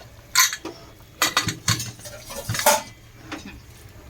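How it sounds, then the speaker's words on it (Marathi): Metal clatter as a lid and whistle go onto a pressure cooker holding boiling veg pulao rice, a series of sharp clinks and scrapes in irregular bursts, close by with no talking. "कुकरचं झाकण आता लावते."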